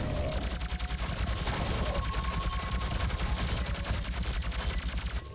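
Rapid, sustained automatic gunfire in a Doom SnapMap level rattles on without pause, dense and loud with a mechanical clatter.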